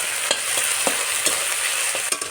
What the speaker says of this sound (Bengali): এভাবে একটু ভাজবো যাতে কাঁচা গন্ধটা বেরিয়ে যায়